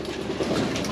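Young pigeons cooing at close range in a steady, low burbling murmur that continues throughout without any talk.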